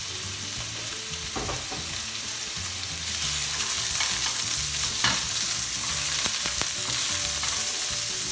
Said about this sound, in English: we're going to put in our pancetta,